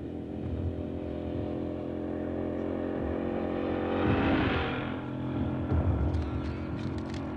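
An engine drones steadily in the scene, rising in a surge near the middle and then settling back to a continuous rumble, with no voices over it.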